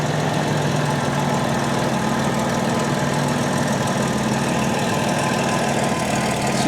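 A classic Jaguar car engine idles steadily up close while air conditioning refrigerant is added, a constant droning hum with a slight wavering in the idle and no voices.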